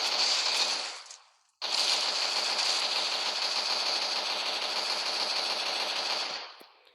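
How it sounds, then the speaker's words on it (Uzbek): Rapid automatic gunfire from a modded weapon in Minecraft 1.12.2 rattles loudly in two long bursts separated by a short pause, with no talking. "Hozir boshidan otib ko'ramiz."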